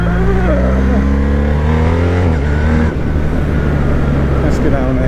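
BMW R1250R or R1300R boxer motorcycle engine dropping through gears with a quick shifter on a narrow road, loud and close, the pitch stepping down in several quick shifts before settling into a rough, throbbing engine note.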